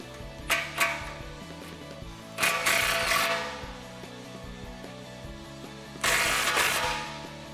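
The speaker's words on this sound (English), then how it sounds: "Now we can tighten up this clamp." Tightening an exhaust clamp on a 2018-2020 Mustang GT Borla ATAK cat-back muffler, heard as short bursts of ratcheting power-tool whirring with metallic knocks, three separate close passes with quieter gaps between.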